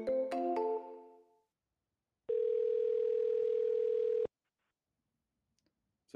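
A steady telephone dial tone drones alone for about two seconds after a brief burst of other tones, then cuts off into silence as a phone call is placed.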